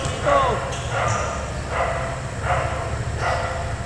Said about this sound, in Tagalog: Malaking aso yun ah.